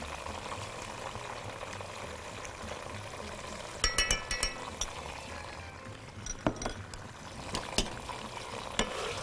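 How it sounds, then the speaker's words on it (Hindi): Ground ginger and garlic paste sizzles steadily in a pan with onions and a little water, a constant close frying hiss broken by clinks and scrapes of a stirring spoon against the metal. "थोड़ा सा इसको भून लूँ मैं।"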